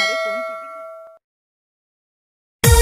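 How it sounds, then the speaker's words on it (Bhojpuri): A bright notification ding rings out with sustained tonal partials over a brief vocal murmur, then fades into about a second and a half of silence before a loud burst of music cuts in. "सब्सक्राइब करते वक्त ना घंटी बजा देना"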